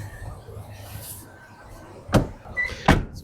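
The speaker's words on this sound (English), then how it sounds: "those doors open and close just like they should" Doors of a 1988 Toyota 1-ton pickup with a 22R-E 2.4L inline-four are shut: two sharp, close thuds about a second apart after a stretch of quiet outdoor background.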